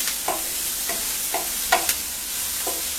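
Chopped onions for mutton keema sizzling in a pan as they turn from white to light brown, with a steady frying hiss broken by a slow series of distinct stirring scrapes, close and moderately loud.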